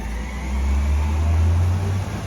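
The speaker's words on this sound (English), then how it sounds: "The garbage truck." A garbage truck passes nearby, a heavy low engine rumble swelling and holding for a couple of seconds before easing, with no talk over it.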